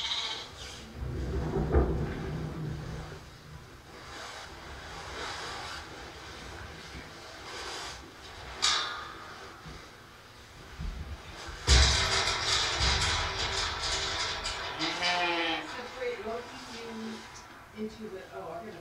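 Hungry sheep waiting for hay bleat at varying distances from a farm flock while people talk over them, with a low engine-like rumble in the background.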